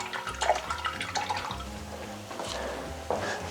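Hot steel screwdriver head from a 1949 American screwdriver, dipped into a water tank after sanding, giving soft splashing and bubbling water sounds at close range.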